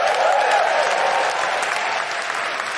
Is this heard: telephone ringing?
no